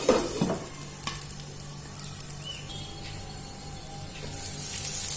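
Spiced vegetables for Maggi cutlets cook in a pan over a low flame with a soft, steady sizzle. A couple of stirring knocks and scrapes come near the start and no one speaks.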